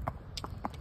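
A buckskin horse walks on concrete, its hooves giving a few sharp, spaced clip-clop strikes in a slow, even rhythm, close but soft.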